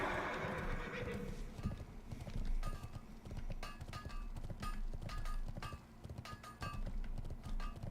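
A horse mount from World of Warcraft Classic whinnies briefly at the start, then gallops with a steady, rhythmic clip-clop of hooves that stays close and even throughout.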